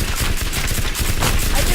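Rapid, continuous laser-gun fire rattles in the video game Teardown, a loud dense burst of repeated shots that carries on without pause for the whole stretch.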